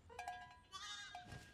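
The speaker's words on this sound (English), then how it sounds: "He's gonna kill the sheep!" Sheep bleat in the Spyro Reignited Trilogy video game, a few short, wavering cries over faint game ambience, quiet and with no talking.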